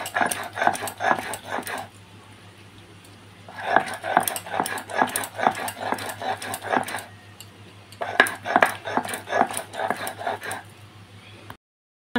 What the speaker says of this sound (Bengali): আমি চিংড়ি মাছগুলো সব থেতো করে নেবো, মাছগুলোকে বেটে নেবো।